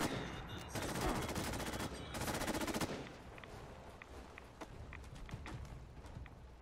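Rapid automatic gunfire in Fallout 76 comes in two dense, loud bursts, followed by quieter scattered single shots and clicks.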